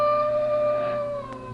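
A dog howling down by a river, a single drawn-out, fairly steady wail at moderate distance that slowly fades toward the end, with no voices over it.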